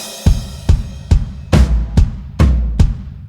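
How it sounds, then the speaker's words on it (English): Drum kit fill on an acoustic set: a crash cymbal with snare opens, then snare, low tom and bass drum strikes follow in a quick, uneven rhythm of about eight loud close hits, with cymbal wash ringing under them. "We've got the crash and the snare drum at the beginning now,"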